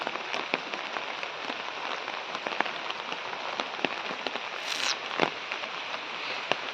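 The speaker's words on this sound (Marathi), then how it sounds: "आज पाऊस खूप आहे कंटिन्यू लागतो आहे जास्त जोरात नाही आहे पण कंटिन्यू पाऊस चालू आहे" Steady, moderate rain falls continuously with a dense patter and occasional sharper drops, no voices present.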